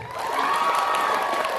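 An audience at a student theatre performance applauds and cheers, a loud, sustained mix of clapping and raised voices from a crowd.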